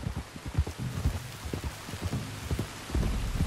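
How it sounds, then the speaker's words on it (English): Steady rain in the game Red Dead Redemption 2 patters and splashes over a low rumble, with heavier thuds of drops scattered throughout, fairly soft. "You were right about the damn rain."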